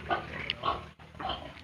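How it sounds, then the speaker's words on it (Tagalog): A pregnant sow on a backyard pig farm gives a run of rough, close grunts and snorts that come in uneven pulses with a short pause midway. No one speaks. "update sa ating isang inahing baboy"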